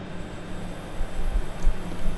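A Thameslink train runs on the East Coast Main Line in Train Simulator 2018, a steady low rumble of rolling wheels and motor with a faint high whine above it, continuous and close.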